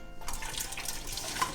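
Tap water pours into a pot on a stove to boil chopped potatoes, a steady close splashing rush that runs the whole time without talk.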